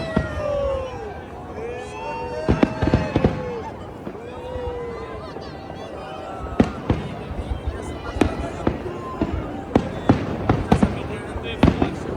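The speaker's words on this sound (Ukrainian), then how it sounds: "Салют, новий рік наступив." New Year fireworks in Berlin burst repeatedly in the distance, sharp booms and crackles at irregular intervals, with whistling rockets rising and a crowd murmuring.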